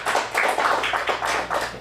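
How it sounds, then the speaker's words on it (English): An audience at a youth improv showcase gives a round of applause for the interpreter, a brisk, dense clatter of many hands clapping at moderate distance with no talking. "Let's give him a round of applause for the interpreter."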